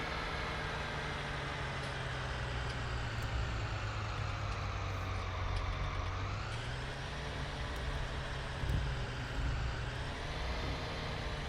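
A big tractor engine drones steadily in Farming Simulator 19, with a continuous loud diesel rumble whose pitch rises and dips slightly as the throttle changes.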